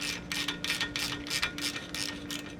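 A ratchet tightens the lower control arm ball joint on a 2009 Nissan Versa, giving about eight quick, rhythmic bursts of close metallic clicking with no talk.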